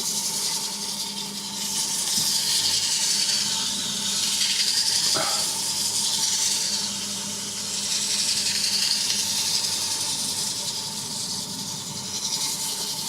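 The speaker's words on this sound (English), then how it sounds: "I'm not actually digging in to the bottom of the layers with the sandpaper, I'm just going over the top" Sandpaper rubbed by hand over an elm and walnut wooden bowl, a steady close hissing rasp that swells and eases in long continuous passes, loud and unbroken with no talking.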